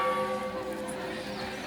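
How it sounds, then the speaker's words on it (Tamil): A temple bell at Aranganathar Temple on PalaMalai hill rings once and leaves a clear, sustained hum that fades over steady rain hiss. "யார் வேணால் அடிக்கலாம் கைஸ். அந்த கோயில் மணி"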